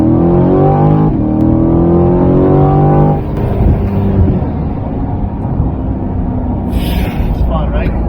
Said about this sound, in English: let's give it a first gear